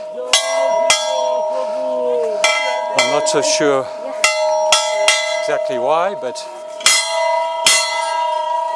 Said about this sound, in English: and you ring the bell again.